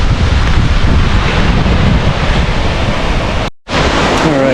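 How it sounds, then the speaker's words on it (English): Steady, loud broadband roar of a waterfall in Da Lat, Vietnam, heavily buffeted by wind on the microphone, with a brief dropout near the end before the rush resumes. "Crazy awesome waterfalls."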